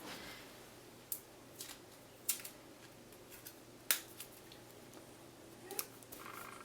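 Scissors snip washi tape for a travel journal page, giving a few sharp, isolated cuts spaced about a second apart against a quiet background.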